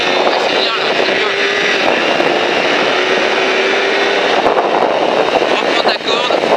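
A motorcycle engine held at full throttle on the Alès race track, a loud, continuous high-revving roar dominating throughout with little variation.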